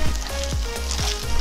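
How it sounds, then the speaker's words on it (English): Black beans tipped into a hot pan for vegetarian stuffed bell peppers hiss and sizzle loudly up close, with a few stirring scrapes punctuating the steady frying. "now we're gonna add our black beans"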